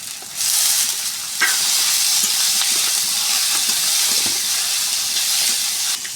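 Potatoes hit a hot pan with green chillies, coriander and curry leaves, bursting into a loud, sustained sizzle and hiss that swells after a second splash and stays steady to the end.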